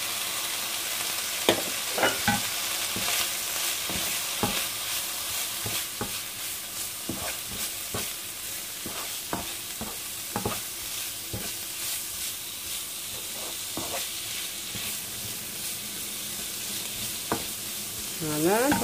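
Chicken mince frying with spices in a pan, a constant hiss of sizzling broken by frequent sharp scrapes and knocks of a utensil stirring, close and busy throughout.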